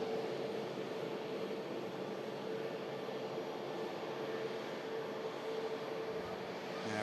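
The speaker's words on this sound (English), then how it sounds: "Next arrival, we have an EasyJet Neo coming in from Porto, A320, Hotel Yankee," An EasyJet Airbus A320neo arriving from Porto lands at Manchester Airport, a faint, steady distant jet rumble with a thin tonal whine running throughout, no voices present.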